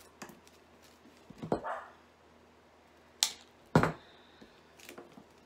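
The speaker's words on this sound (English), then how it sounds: "that's my dog just barking at whatever wind blows out there" A dog barks outside, a few scattered barks of moderate loudness heard at a distance over a quiet indoor background.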